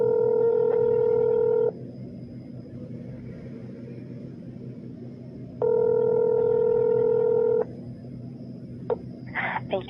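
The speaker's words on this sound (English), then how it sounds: "Wait while I transfer your call." Telephone call transfer tones on an office phone line: two long steady electronic tone bursts separated by a quiet stretch of line hiss, followed by a few faint clicks.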